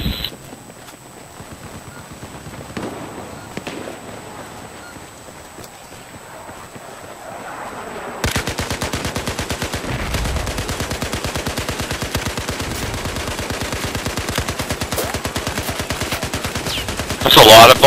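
Rapid continuous gunfire in a shooter video game starts abruptly about halfway through and keeps up as a dense crackling rattle, following a quieter stretch of faint ambient noise.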